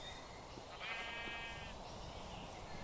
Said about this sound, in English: A lot of sheep, though.